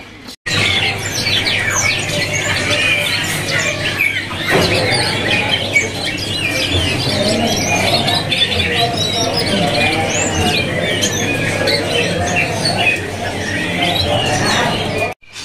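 A Javan cucak jenggot bulbul calls loudly and persistently, with dense chirps and warbling notes packed together, close by, over a faint steady hum.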